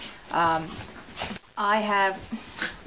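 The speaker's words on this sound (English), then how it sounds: "my dogs are epically battling" Dogs play fighting at close range, with strained whines, growly yelps and whimpers in two loud bursts separated by a short pause and trailing off into softer noises.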